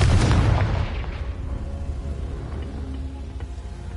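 A Confringo blasting spell from Hogwarts Legacy goes off as a loud, booming explosion at the start, then fades into a lingering low rumble and crackle.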